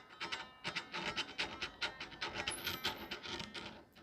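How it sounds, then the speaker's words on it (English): Fingers rub along a scratchy fretboard on a cheap 335-copy electric guitar, giving a quiet, rhythmic rasping scrape, stroke after stroke, with the string damped. "a lot of cheaper guitars these days, I have noticed, have very scratchy fretboards"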